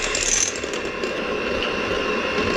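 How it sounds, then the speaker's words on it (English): A hand blender whirs through blueberry oatmeal muffin batter at medium speed with a steady, close, whining buzz throughout, with no talk. "So let's blend it."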